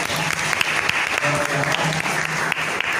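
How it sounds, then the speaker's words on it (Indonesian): Applause from a classroom audience for a student named Joyce after her poetry reading, a steady dense clatter of many hands clapping close by, with faint voices mixed in. "Tepuk tangan untuk Joyce."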